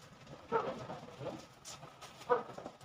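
A dog barks twice on a mountainside, a couple of seconds apart, amid outdoor background noise; each bark is short and moderately close.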